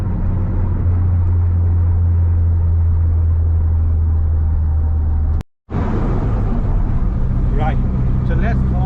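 Stage 1 remapped R56 Mini Cooper JCW exhaust, heard from inside with the pan roof open: a steady loud engine drone and rumble throughout, briefly cut off by a short gap, then resuming under cabin wind noise.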